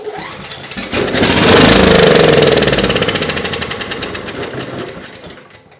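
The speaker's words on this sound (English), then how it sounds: "Okay, so the engine is a runner." A Coleman Powermate 6250 generator engine sputters to life and settles into a loud, rapid, steady chugging idle that gradually eases a little in volume.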